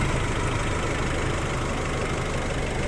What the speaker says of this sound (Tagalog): Wala nang ingay yung makina.